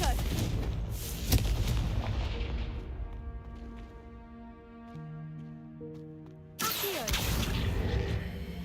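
Confringo spell explosion in a magic video game, a heavy booming blast followed by a tonal ringing tail that fades, then another burst of noise near the end, heard under a spoken voice.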